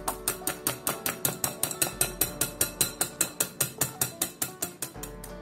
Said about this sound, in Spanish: En mi caso, todavía hay que seguir batiendo.